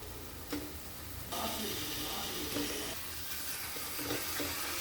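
Fish pieces drop into masala frying in oil for a Telugu fish curry, bringing on a steady hiss of sizzling that continues close and even, with faint stirring clinks.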